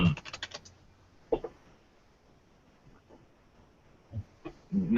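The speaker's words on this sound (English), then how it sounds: "I can hear your typing" Bursts of typing on a computer keyboard, quick clusters of clacking keystrokes at the start and end separated by a near-silent pause with a few isolated taps, close and fairly quiet.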